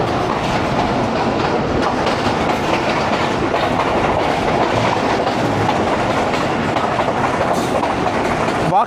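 The 9UP Allama Iqbal Express train from Lahore to Narowal rolls along the rail tracks with a loud, continuous rumble and rhythmic clickety-clack of wheels, heard from on board and steady throughout.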